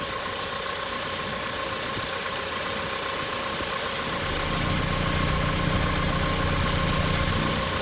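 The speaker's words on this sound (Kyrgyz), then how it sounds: "мотор жакшына болуп иштеп турат" The 2.5-litre diesel in a used Hyundai Porter 2 truck idles steadily, a continuous engine hum whose low, even tone grows fuller partway through.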